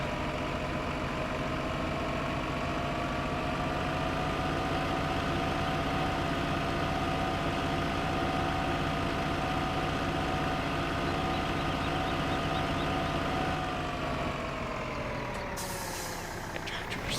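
Steady drone of a Zetor tractor engine pulling a cultivator in Farming Simulator 15, loud and constant with a low rumble and tonal whine, shifting pitch near the end as the load changes; no talking.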